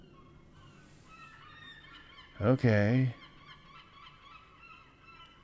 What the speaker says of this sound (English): And we have seagulls to sing us out